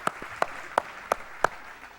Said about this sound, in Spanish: Give 'em a hand.